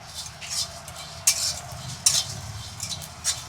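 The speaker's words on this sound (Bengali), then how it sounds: "এই যে জিরা ধুনে আর এলাচি একসঙ্গে ভেজে নিচ্ছি" Whole cumin, coriander seeds and cardamom fry together in a pan for a fish-head and yam dish, a soft sizzle under repeated sharp clinks of a spoon stirring against the metal.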